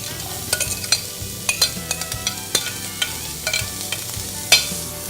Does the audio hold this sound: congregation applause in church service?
no